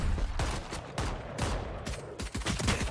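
Rapid video game gunfire rattles in dense bursts of shots with short gaps, sounding close and continuous throughout.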